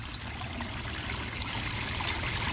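Steady trickling and splashing of water in a mini pond, continuous and close, with no voices, as driftwood is set into a corner of it.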